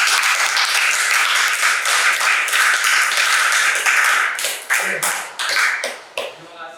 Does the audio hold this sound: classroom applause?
yes